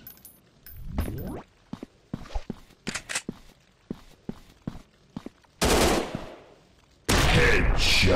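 Gunfire in a first-person shooter mobile game, a series of sharp single shots spaced irregularly, followed by two loud sustained bursts of rapid automatic fire, close and punchy against quiet gaps.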